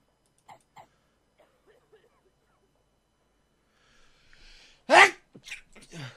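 A single sharp sneeze bursts out loudly, followed by a few short breathy sounds, after quiet clicks and faint background noise.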